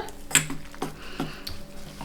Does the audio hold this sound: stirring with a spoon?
yes